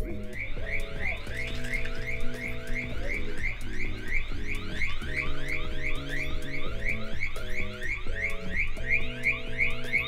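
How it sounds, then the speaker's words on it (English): An alarm sounds outside on a Birmingham street, a steady, rapidly repeating electronic warble that pulses continuously over background music, moderately loud and unbroken. "Ignore the alarm."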